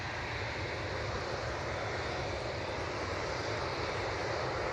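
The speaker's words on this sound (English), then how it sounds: "there is this beautiful 787-9 Dreamliner" A Boeing 787-9 Dreamliner at Manchester Airport gives off a steady, even jet roar, moderately distant and unbroken, with no voices.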